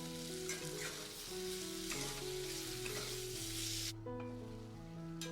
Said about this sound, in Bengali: আর এখানে মশলাটা মোটামুটি কষানো হয়ে গেছে, মশলা থেকে তেল ছেড়ে দিয়েছে